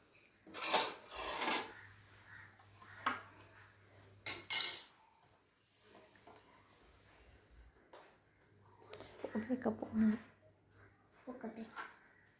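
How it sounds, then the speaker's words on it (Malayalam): A utensil stirring cup noodles inside the cup, with short scraping and clinking bursts separated by quiet gaps, close and fairly soft, while a person talks between the stirs. "നമുക്ക് ഇളക്കി വെക്കാം."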